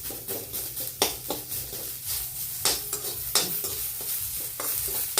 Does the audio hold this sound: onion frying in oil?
yes